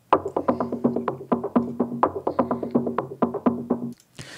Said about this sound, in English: So this is the loop for one of the pieces I use.